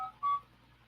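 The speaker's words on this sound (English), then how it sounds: "that was just my phone asking like" A phone gives a short notification alert: two quick, bright electronic tones, close and clear, with nothing else around them.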